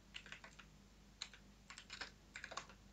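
Fingers tapping a computer keyboard, entering CSS code, in quick irregular bursts of keystrokes with short pauses between them, close and clear in a quiet room.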